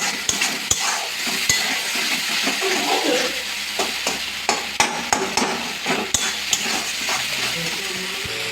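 Duck meat stir-fried with spices in a pan, a constant close sizzle punctuated by sharp, irregular scraping clicks of a utensil against the pan, with no talk.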